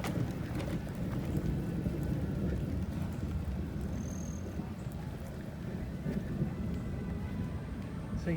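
Steady rain pours at Disney's Wilderness Lodge during a thunderstorm, a dense continuous hiss with low rumbling, evenly loud throughout with no talk.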